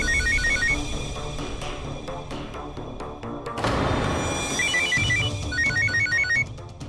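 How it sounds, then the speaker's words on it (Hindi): Phone ringtone chirping in short repeated electronic bursts from inside a kitchen freezer, clear and fairly loud over clattering busy kitchen noise, with a brief loud burst of clatter midway. "मेरे को लगता है कि फोन फ्रीजर में बज रहे हैं"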